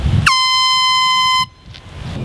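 A single loud, sustained air-horn blast with a steady bright tone lasts about a second, then cuts off abruptly into quiet background.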